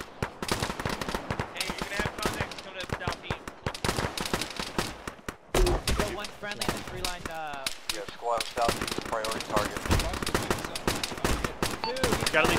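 Enemy gunfire in an Arma military simulation session: rapid, loud bursts and cracks of rifle and machine-gun fire, some close and some distant, with voices talking over the shooting.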